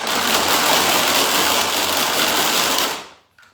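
An electric mixer on its lowest speed beats a small amount of egg whites, making a loud, steady, noisy whir for about three seconds before it abruptly cuts out into near silence.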